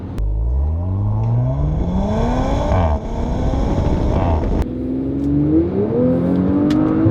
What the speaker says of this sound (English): Acceleration, just so fast, man, and really dramatic.